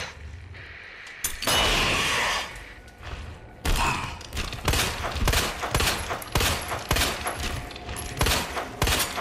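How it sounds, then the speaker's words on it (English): Flash grenade going off in the Resident Evil 2 remake during Leon's woods section, a loud burst followed by a string of thumps, clangs and rapid gunfire-like impacts. "I have to use a flash grenade."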